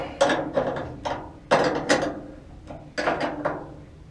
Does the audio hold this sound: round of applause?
no